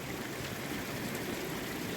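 Floodwater flowing around a rural home garden in Zimbabwe, a faint, steady rushing wash of moving water with no other sounds.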